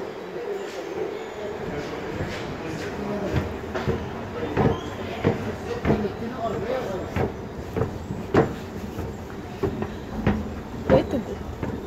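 A tram pulls into a central station platform, with faint rail clatter and repeated clicking wheel knocks spread through a steady background rumble.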